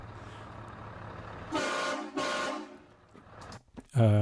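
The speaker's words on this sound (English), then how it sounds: "a sample from a YouTube video. Of a truck horn, which sounded like this," A loud truck air horn blasts twice in a row over a low engine rumble, then a brief pause before a third, harsher horn blast cuts in.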